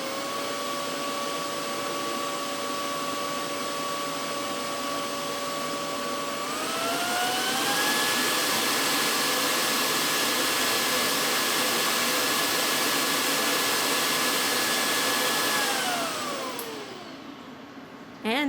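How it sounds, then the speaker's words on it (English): A Makera Cyclone dust collection system runs continuously with a high motor whine and rushing airflow. Partway through it ramps up to a louder, higher-pitched speed, holds, then spins down near the end, with no voices. "The Cyclone Dust Collection System promises a max noise of 70 decibels."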